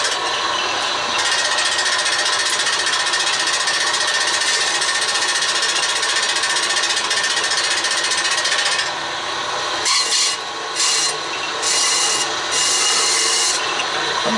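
Harbor Freight band saw running steadily with a loud, continuous broadband whir and a rattling vibration from its loose pulley cover, the tone briefly shifting and stuttering near the end, close by with no talking.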